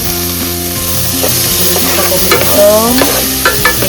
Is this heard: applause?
no